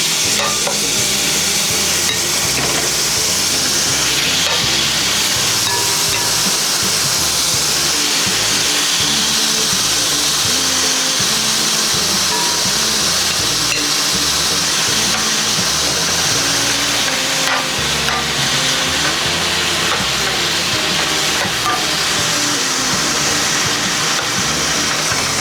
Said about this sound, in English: I'm gonna add my chili oil to this. Because it's how I'm gonna brown my meat, cook the meat.